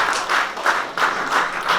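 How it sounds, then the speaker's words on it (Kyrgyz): A crowd claps together at a community anniversary gathering, rhythmic bursts of applause repeating roughly every third of a second, close and steady with no talk. "анан бир кол чаап коелу"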